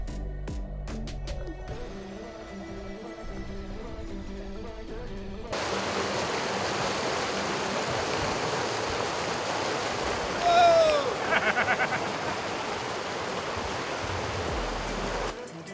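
A clear, fast-flowing mountain creek in Montana trout country rushes in a steady, broad wash, close and continuous, after a short stretch of music at the start.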